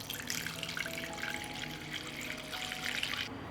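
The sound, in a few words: water poured into a pot holding jars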